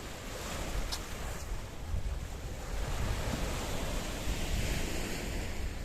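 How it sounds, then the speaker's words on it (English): Blue Mediterranean Sea waves washing against a rocky shoreline in downtown Paphos, Cyprus, a loud continuous surge and hiss of surf with wind rumbling on the microphone. "that's the blue Mediterranean Sea, licking and lapping on the shoreline of downtown Paphos"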